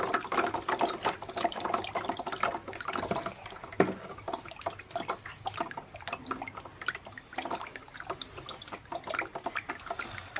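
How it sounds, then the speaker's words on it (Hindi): Muddy water of Multani clay being strained through a strainer, a soft continuous trickle with scattered drips and wet splashes, quiet and close throughout. "अब ये देखें इजीली ये पानी इसका स्टेन नहीं हो रहा है"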